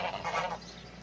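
Farm geese honking in a loud burst of repeated nasal calls, then quieter background noise as the honks fade.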